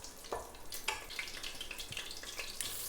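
Green chillies sautéing in a pan for mutton biryani, a low crackling fry broken by several sharp stirring scrapes close by, with no voices.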